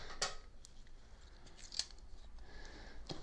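Scissors cutting open the cardboard packaging of a Braun 7865CC Series 7 shaver box: a few faint, close snips and crisp clicks spread over about three seconds, with no talking.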